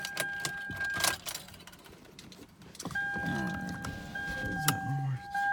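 Keys jangle, then the ignition of a 2005 Toyota Camry with a no-start fault is switched on, bringing a steady electronic chime tone and a low hum with soft clicks, close up.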